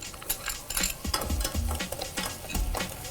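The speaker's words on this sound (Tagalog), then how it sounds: "Igisa natin itong sibuyas" Chopped onion and garlic sauté in a pan, with soft scraping and light clinks of a utensil stirring against the metal over a low sizzle. The sound is close and moderately quiet, with no talk.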